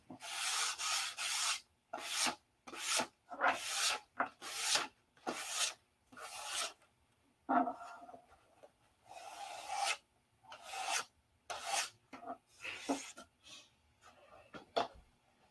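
Wooden flap joints on a P-47 model are hand-sanded in short, rhythmic rasping strokes, close and fairly quiet, separated by brief pauses, with no talking.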